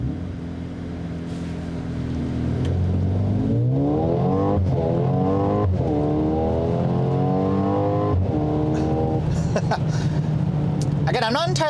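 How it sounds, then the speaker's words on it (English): A Mercedes-AMG GLA 35 engine revs up hard with launch control, rising and falling in repeated surges of climbing pitch, loud and close inside the cabin, ending with a brief sharper noise. "foot hard on the brake, accelerate."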